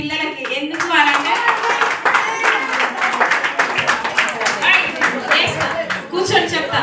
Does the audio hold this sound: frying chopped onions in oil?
no